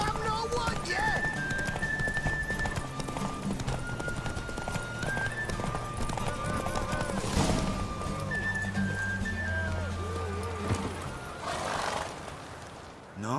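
Horses clip-clopping at a race gallop in The Witcher 3, steady hoofbeats with occasional whinnies and a roar-like burst, mixed under in-game character speech and music throughout.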